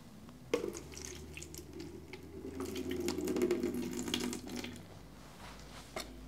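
Tap water runs over unsifted enamel powder in a sink, a steady close rush that swells in the middle and then eases off. No one speaks over it.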